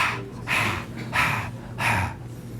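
A voice imitates a very high-pitched aortic regurgitation heart murmur, giving three breathy, hissing blowing sounds spaced about evenly apart.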